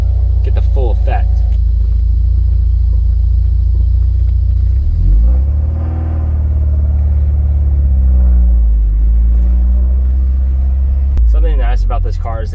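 A new car drives with its windows rolled down, giving a steady loud low rumble of engine and wind buffeting throughout, with a person talking over it.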